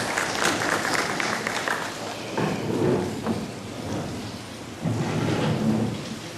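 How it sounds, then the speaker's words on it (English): An audience at a seminar at Southern Adventist University claps to welcome Dr. Trevor Gardner, a dense, noisy roar of applause that surges, dips midway, then swells again. "Welcome you with a round of applause"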